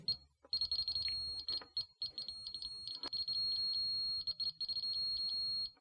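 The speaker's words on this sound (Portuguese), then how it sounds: "Dá também para ativar um som que apita cada vez que o aparelho detecta a radiação." A radiation detector's high-pitched electronic beeping repeats rapidly and irregularly, clicking out quick chirps over a faint background hum, fairly quiet and close.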